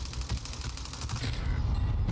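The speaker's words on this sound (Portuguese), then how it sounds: "Tá dando tiro de cima." Gunfire in a video game featuring a new ZRG sniper rifle: a rapid burst of repeated shots with a mechanical rattle, loud and close, followed by a dense rumbling wash of noise.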